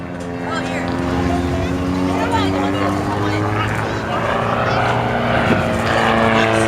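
A spotless vintage aerobatic airplane from an old-time aerobatics act drones steadily at a distance, its engine a continuous low throbbing roar, while a voice talks over it.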